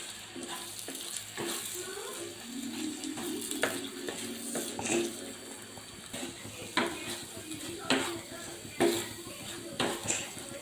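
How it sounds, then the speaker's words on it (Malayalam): Food being stirred in a pan over low heat, soft sizzling under repeated scraping and clinking strokes of a spoon against the pan, quiet and close, with a voice talking faintly at times. "നന്നായിട്ടൊന്ന് ഇളക്കി കൊടുക്കാം"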